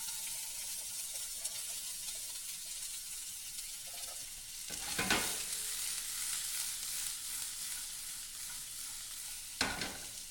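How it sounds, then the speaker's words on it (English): Onions sautéing in very hot oil, a steady quiet sizzle with two louder bursts of hiss and scraping as they're tossed and stirred in the pan. "As soon as you get the onions, you want to toss them in the oil."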